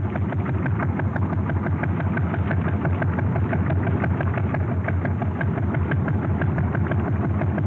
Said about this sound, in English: Powered by diesel engines, it carries 200 passengers at a time.